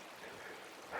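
A mountain stream trickles and gurgles softly through pools at the top of Tugela Falls in South Africa, just before the water's big drop, a gentle continuous flow that swells slightly at the end.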